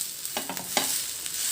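Rava uttapam cooking on a hot pan just after being flipped, giving a soft continuous sizzle with a few faint scraping clicks of a spatula.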